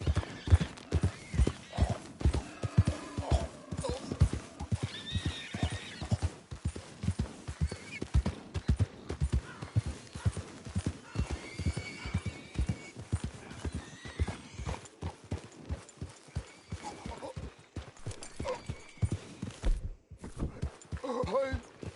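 Horse in the video game Red Dead Redemption 2 galloping with fast rhythmic hoofbeats throughout, a neigh breaking through midway, moderately quiet, occasional voices talking over it.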